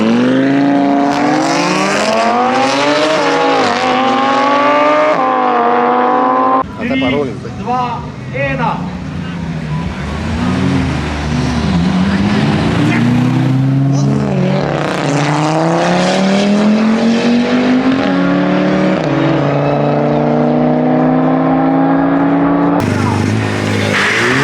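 Drag race car at the Lesce airfield strip accelerating hard away from the line, engine revving up through repeated gear changes, loud and close and then fading, with people talking over it.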